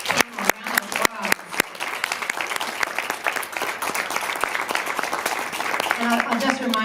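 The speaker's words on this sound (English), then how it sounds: "Let's all give our panel a round of applause." An audience at a panel discussion after a film screening applauds the panelists. It begins with a few scattered sharp claps, swells into a full, steady round of applause, then a voice speaks over it near the end.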